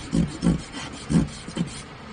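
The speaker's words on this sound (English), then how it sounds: "Finish it off with some sandpaper." Sandpaper rubbing a wooden part of a Japanese gottan during its build, heard as four soft rasping strokes in an uneven rhythm, close and fairly quiet, with no voices.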